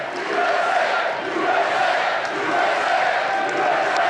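A large crowd cheers and roars continuously at a Trump rally, loud and sustained, with rising and falling waves of voices.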